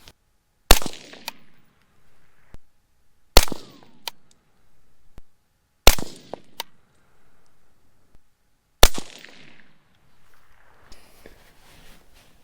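Four sharp, loud rifle shots from a Uintah Precision UPR15 chambered in .223 Rem firing Sierra 69g SMK handloads, each crack spaced a couple of seconds apart and trailing a brief ringing decay outdoors.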